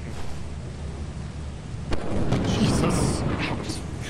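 Thunderstorm in the video game Lethal Company: a steady wash of rain and low rumble with a sharper thunder crack midway, louder rolling thunder following, and a voice faintly present.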